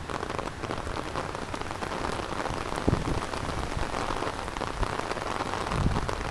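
Heavy rain pours down steadily, a dense, even wash of drops drumming on surfaces close by, loud and unbroken, with no voices.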